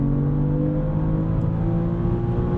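A BMW M3 CS sports sedan engine revs with a steady, throaty hum that holds loud and close throughout, with no talking.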